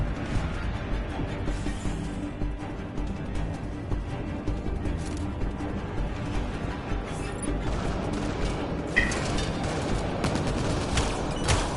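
Sustained bursts of gunfire in the video game Mass Effect Andromeda, rapid automatic shots and crackling volleys rattling continuously with occasional heavier impacts, loud and dense throughout the firefight.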